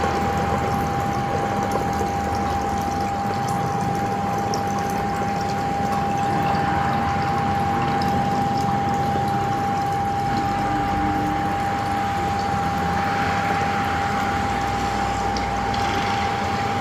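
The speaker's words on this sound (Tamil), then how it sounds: "பாட்டிலில் ஒரு பாதி அளவுக்கு தண்ணி ஊற்றிக்கணும்." Water is poured steadily into a bottle, a continuous splashing and gurgling stream with a constant mechanical hum running underneath, loud and close throughout.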